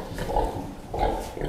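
A sow in a crowded pig barn gives two low, close grunts about half a second apart, alone with no talking.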